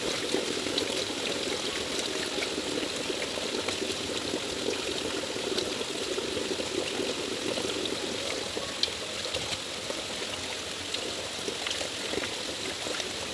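Water from a spring flows and trickles steadily nearby, a continuous bubbling babble with no voices, constant in level from start to finish.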